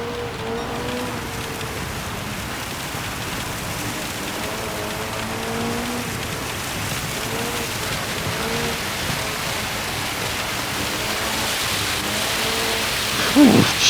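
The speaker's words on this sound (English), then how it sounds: "My God, the rain is insane." Heavy rain in the racing game Gran Turismo 7 pours in a dense, steady wash with a car engine droning underneath and a sharp burst near the end.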